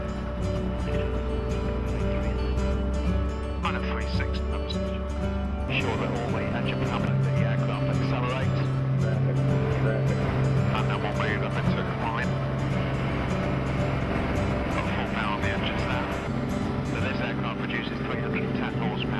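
A 310-horsepower light aircraft engine drones loud and steady through takeoff and a climb of about 1,500 feet per minute, its deep hum and rumble continuous from close inside the cabin, with faint voice-like sounds beneath.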